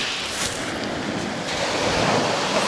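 Sea waves washing onto the beach at Adler in Sochi, a steady broad surf rush with some wind buffeting the microphone and no voices.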